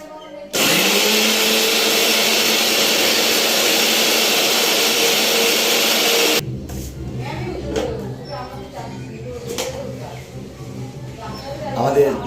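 An electric blender grinds a spice paste for a yogurt mutton dish with a loud, steady high whine for about six seconds, then stops abruptly, leaving quieter kitchen sounds and clatter.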